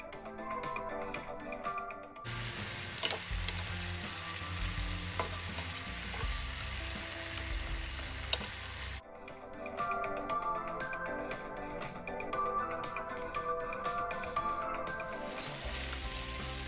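Garlic and food fry in a pan with a steady, close sizzle while a utensil stirs and flips it, and the frying swells and fades as the scene cuts with background music underneath.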